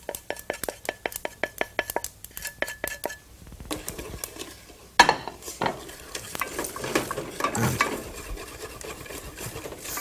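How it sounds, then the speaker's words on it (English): Turmeric, cayenne pepper, coriander and garam masala fry in a pan over a very low flame, with a quick run of metallic taps and then soft sizzling and scraping as a spoon stirs, heard close. "Fry it all up."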